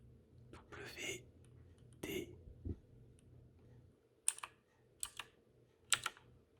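A few crisp keystrokes on a computer keyboard as the PWD command is typed into a Linux terminal, clicking close and quiet in a hushed room, with soft whispered speech before them.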